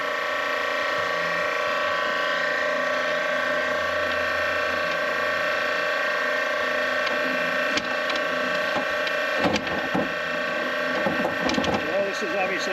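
Pressurized cleaning hose working its way through an RV black holding tank, a steady loud rushing drone with rattling and knocking clatter that grows busier toward the end.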